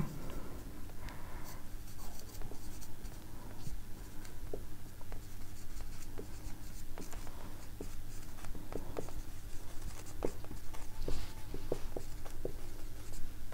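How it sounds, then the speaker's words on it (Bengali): Handwriting during a physics lesson on pulley problems: a faint, continuous scratch of a pen or marker on a surface, with irregular small taps and strokes over about thirteen seconds, no talking. "আমি একটু লিখছি এখানে।"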